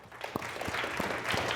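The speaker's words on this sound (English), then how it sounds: "let's give them a clap" Audience applause fills a hall during an MIT certificate conferment ceremony, a dense, steady patter of many hands clapping at moderate volume for the whole moment.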